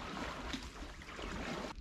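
A Kubota engine runs steadily on a small boat out fishing, a continuous broadband drone with water and wind noise, fairly faint and close, briefly dipping near the end.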